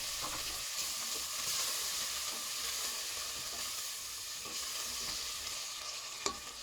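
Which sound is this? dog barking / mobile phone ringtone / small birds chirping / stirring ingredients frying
stirring ingredients frying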